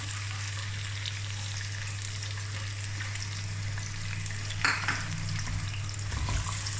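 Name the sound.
chopped onion frying in oil with cumin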